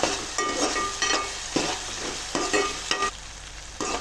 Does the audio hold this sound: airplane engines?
no